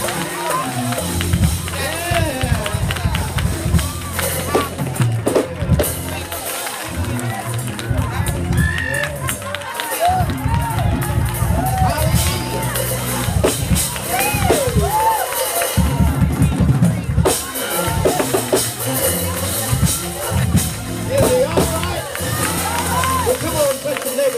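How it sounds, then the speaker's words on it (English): A church congregation claps and cheers in praise during a worship service, loud, dense and continuous, with rhythmic hand claps under shouting voices and crowd babble. "Give our daddy a hand clap of praise."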